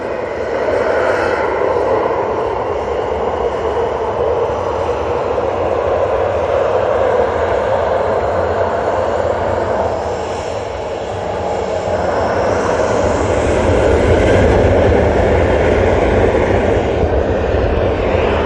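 An SAS Airbus A320neo in new livery takes off at Manchester Airport, a loud, continuous jet engine roar that holds strong for the whole stretch and swells slightly toward the end.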